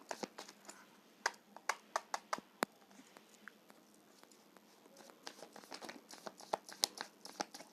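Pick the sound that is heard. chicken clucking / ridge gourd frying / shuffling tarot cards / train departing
shuffling tarot cards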